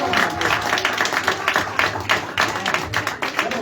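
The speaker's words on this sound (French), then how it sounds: "S'il y a la joie, acclamons, acclamons, acclamons, acclamons." A church congregation claps and cheers, loud rhythmic applause mixed with shouting voices that rises and falls in waves.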